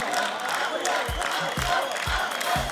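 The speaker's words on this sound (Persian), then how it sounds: "دوستا تشویق داشته باشین" An audience on a Persian-language competition show cheers and claps loudly as a crowd, with whoops and rhythmic low thumps running steadily through the whole moment.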